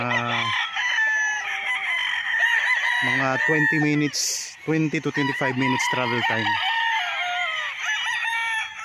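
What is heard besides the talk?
chickens clucking and roosters crowing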